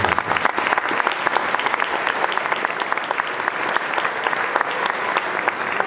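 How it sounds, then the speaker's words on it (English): A crowd applauds the band teachers at a sixth grade holiday band concert, with steady clapping that keeps up for several seconds. "So round of applause."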